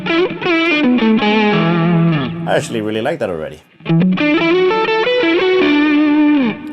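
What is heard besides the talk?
electric guitar crunch through Lil' Rat pedal, neck pickup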